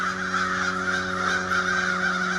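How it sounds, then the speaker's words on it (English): Crows cawing along the Red River Gorge trail, a run of harsh repeated calls, fairly close and steady throughout over a faint outdoor background, with no talking. "I'm sorry I'm interfering with them birds."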